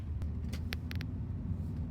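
A Jaguar XJ6 with a roughly 240-horsepower six-cylinder engine driving along, a low steady engine and road rumble inside the car with a few brief clicks and taps, no talking.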